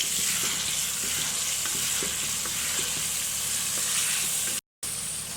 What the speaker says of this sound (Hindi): अब इसको करेंगे अच्छे तरीके से मिक्स।